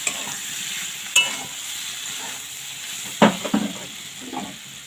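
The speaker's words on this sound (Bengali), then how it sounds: "এটা একদম ভাজা ভাজা হয়ে গেছে।" Taro stolons (kochur loti) frying in a pan, a steady soft sizzle with a few sharp stirring clatters and scrapes, close and alone with no talk.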